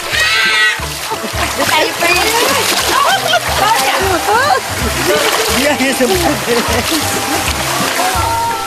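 Relatives splash and play together in water outdoors. Constant close splashing and sloshing fill the clip, with excited voices and chatter throughout.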